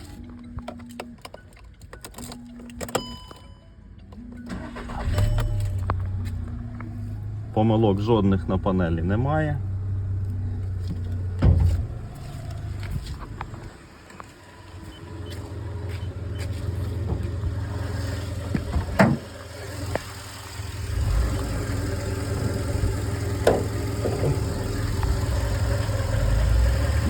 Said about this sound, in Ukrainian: давайте вже разом заведу